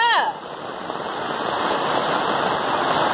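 Heavy rain pours down in Ubatuba, São Paulo, a dense, steady hiss that fills the scene after a brief cry at the start.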